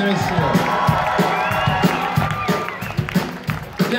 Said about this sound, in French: Un applaudissement pour les fêtes de la musique à Bruxelles